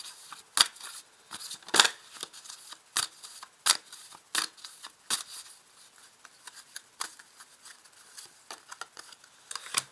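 Tarot cards being laid out on a table, a series of quiet, sharp slaps and brushing snaps at irregular intervals, close and isolated against near silence.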